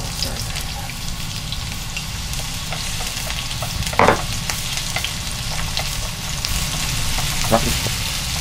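Onions frying in a pan, added to a dish of salted cod and cauliflower: a steady, dense sizzle runs throughout, with a sharper burst of crackling near the middle and scattered pops and stirring clicks.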